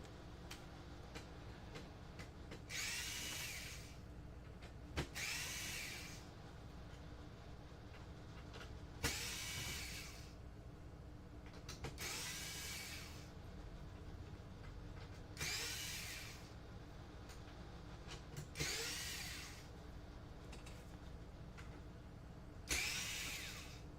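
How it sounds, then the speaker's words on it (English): Screws are removed from an Xbox 360 console board, apparently with a power screwdriver: about seven short, close whirring bursts, each roughly a second long, come at uneven intervals over a quiet room background, with no talking. "Then we take out all these other screws and we can pull the board out."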